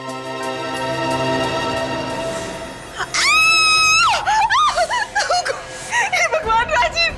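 A man, feverish, screams loudly and raggedly at close range, then lets out shorter strained cries after a stretch of speech-like sound.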